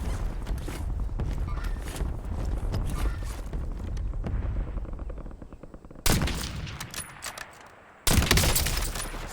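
Gunfire in a military shooter game, with rapid bursts of shots running densely through most of the clip, including a louder burst near the end.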